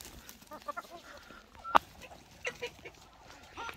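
Aseel chickens and ducks in a village yard, soft scattered clucks and calls at moderate distance, with one brief sharp louder note midway over low outdoor background.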